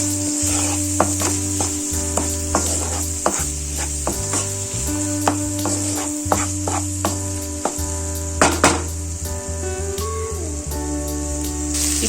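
Tomatoes, curry leaves and finely chopped green chilies fry in a pan for a taro-root tamarind stew, sizzling steadily under repeated stirring scrapes, with a low hum running throughout and no talk.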